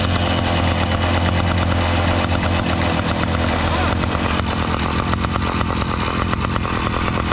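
A motorcycle engine idles up close on a ride, a steady continuous rumble with a low throb that holds without a break, with faint voices mixed in.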